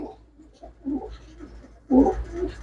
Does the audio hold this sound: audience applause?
no